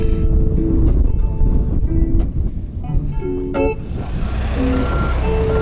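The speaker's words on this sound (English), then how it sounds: "There's literally a tractor passing next to us." A tractor passing close by on a walk along the coast near the Cliffs of Moher, giving a loud steady engine rumble with wind buffeting and faint tonal beeps.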